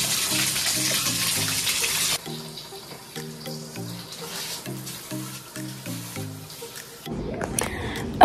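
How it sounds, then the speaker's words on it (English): A home shower runs with a steady hiss of spraying water under light background music, then cuts off abruptly near the end. "I'm probably going to go and take a quick shower"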